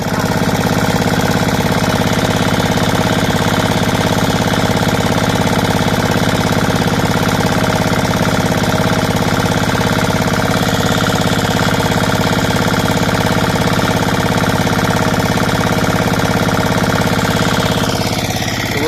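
A farm tilling machine's engine runs loud and close, a dense, unbroken mechanical drone with a rapid knocking rattle that holds steady for the whole stretch.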